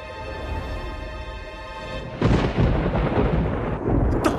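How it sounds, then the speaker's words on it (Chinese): A sharp, loud thunderclap breaks in over a steady tonal hum, then rolls on as a deep rumble with rainy hiss and a few later cracks. "打雷了"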